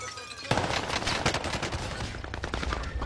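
Video game gunfire as shots crack from behind glass: bursts of rapid shots start after half a second and continue densely and loudly to the end, with no talking.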